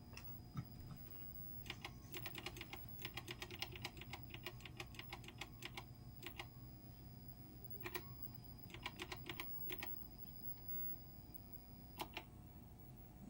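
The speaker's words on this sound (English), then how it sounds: "An authentic CoCo keyboard? Sounds like it." Keys clatter on a CoCo computer keyboard in uneven bursts of quick taps, fairly close, over a low background hum.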